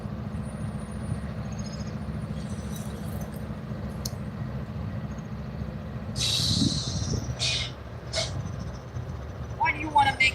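A train passes loudly near a carp-fishing spot: a continuous low, droning engine rumble that swells midway, mixed with hissing bursts and someone talking over it.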